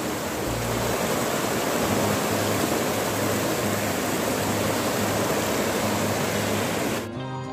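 Clear river water flows steadily, a broad, even rush that fills the whole stretch close by and then cuts off abruptly near the end.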